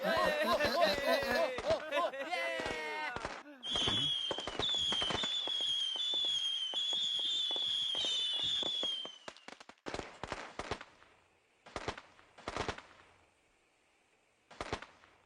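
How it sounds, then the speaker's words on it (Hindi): Firecrackers burst in a film scene: a dense crackling barrage of sharp pops that runs for several seconds alongside a whistling, then thins out into scattered single bangs separated by pauses, with a voice briefly heard near the start. "जिस तरह पटाखे फूट के इधर उधर बिखर रहे हैं"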